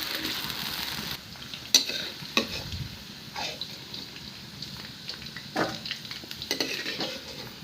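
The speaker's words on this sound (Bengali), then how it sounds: "প্রথমে আলুটাকে একটু ভালো করে ভেজে উঠিয়ে রেখে দেবো।" Potatoes frying in a pan give a steady sizzle, with a few sharp clinks of a utensil against the pan and stirring scrapes over about eight seconds. No one speaks.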